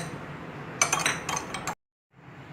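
A spoon clinks and scrapes against a metal tumbler while stirring panakam, a jaggery and lemon drink with dry ginger and cardamom, in a burst of bright rapid clinks, then stops briefly before quieter background sound resumes.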